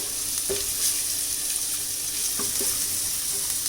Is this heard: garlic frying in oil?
yes